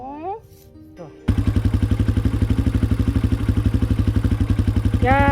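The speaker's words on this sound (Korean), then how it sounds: "천재 이모가 오토바이 타고" A motorcycle pulls up close by and idles with a loud, rhythmic putter. Before the engine starts, a person speaks briefly, and speech returns faintly over the engine at the end.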